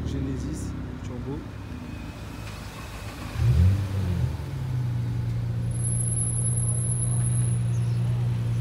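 A Hyundai Genesis Turbo at a track day gives a short engine rise and a rev partway through, then settles into a steady low drone, close by, with voices talking over it.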